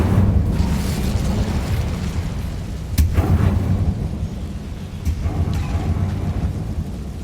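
Incendio fire spell cast in Hogwarts Legacy, a rumbling burst of flame with a sharp crack near three seconds and another softer pop later, over a constant low game rumble.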